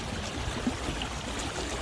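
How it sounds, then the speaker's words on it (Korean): A stream runs along a walking path, a steady, soft rush and trickle of flowing water heard close by throughout, with no talking. "물소리 나니까"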